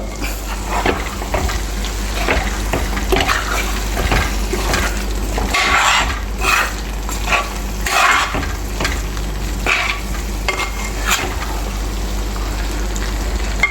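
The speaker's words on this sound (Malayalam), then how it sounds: "അപ്പോൾ നമ്മൾ അരപ്പ് ഇതിനകത്തേക്ക് ചേർത്തിട്ടുണ്ട് ഇതൊന്ന് ഇളക്കി കൊടുക്കാം" Roasted coconut masala paste being stirred into a traditional Kerala chicken curry, with a loud continuous sizzle and repeated scraping strokes of a spoon against the pan, no voices.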